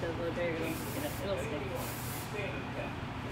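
Hair finishing spray hisses in a few short bursts during a salon cut from long black hair to an undercut pixie, over a steady low background murmur.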